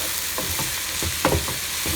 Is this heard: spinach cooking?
yes